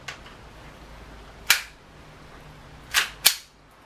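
Test shots from an airsoft replica of Han Solo's DL-44 blaster: three sharp, snappy cracks, close and loud, one alone and then two in quick succession, each decaying quickly into a quiet room.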